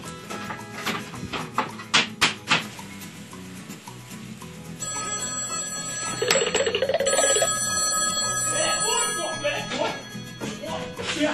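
A telephone rings with a bright electronic tone that repeats in the second half. Voices and knocking sounds come before it, and people talk around the ringing.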